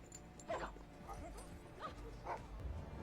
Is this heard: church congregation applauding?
no